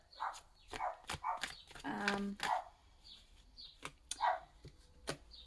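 A neighbor's dog barks repeatedly in short, sharp bursts at an irregular pace, heard fairly faintly from a distance with quiet gaps between barks.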